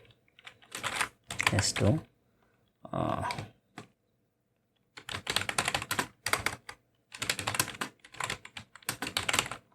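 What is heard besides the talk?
typing on computer keyboard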